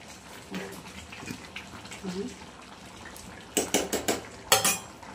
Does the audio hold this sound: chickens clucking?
no